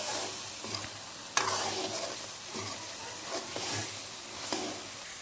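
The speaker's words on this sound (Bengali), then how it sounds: "সয়াবিন ফল এবং আলু যেগুলো ভেজে রেখেছিলাম সব তরকারির মধ্যে দিয়ে দেব এবং সুন্দর করে নাড়তে থাকবো।" Fried soya chunks and potatoes stirred into a simmering curry, a spoon scraping the pot in irregular strokes over a steady sizzle, with one sharp clank near the start and no talking.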